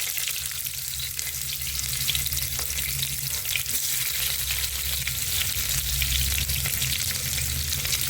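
Onion goes into hot oil with cloves and peppercorns in a pressure cooker, frying in a loud, continuous sizzle that holds steady throughout.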